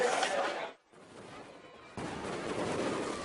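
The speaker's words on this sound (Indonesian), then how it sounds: "perayaan Imlek dimeriahkan oleh pesta kembang api" Fireworks crackle and bang at a Chinese New Year celebration in Ambon, a dense, loud stream of popping bursts with a brief drop in the middle before the barrage resumes, heard outdoors without talk.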